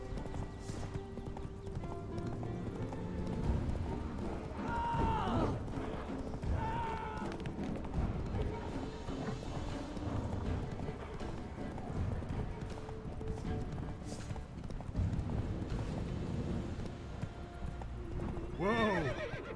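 Roach, the horse in The Witcher 3, gallops with rhythmic clip-clop hoofbeats under game music and talk, with a few whinnies and neighs rising clearly over the mix.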